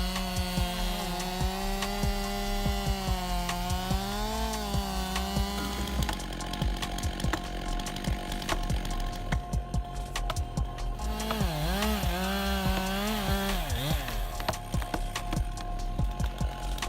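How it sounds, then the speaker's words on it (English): A fast chainsaw cuts through a giant tree trunk, its engine revving loud and close in a steady, shifting whine with pitch swings as the load changes, running without pause. "effortlessly cutting through giant tree trunks at unprecedented speeds"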